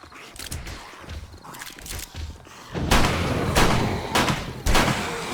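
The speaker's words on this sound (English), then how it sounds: "Just going for the pistol here because I've got lots of ammo to go for this" Pistol shots in the video game 7 Days To Die during a horde night at a base, several sharp reports spaced apart over a busy background of thuds and clatter, fairly loud and close.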